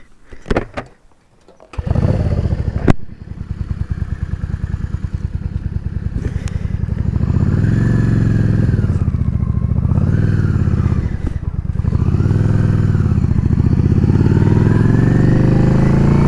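A motorcycle engine starts after a few clattering cranks, then settles into a loud, close, steady idle broken by several rising and falling revs, with no talk.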